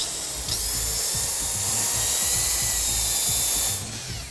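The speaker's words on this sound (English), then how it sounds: "So that was the rough sanding." A loud, continuous high-pitched whir of a power sander rough-sanding a wooden muddler, starting abruptly and cutting off near the end.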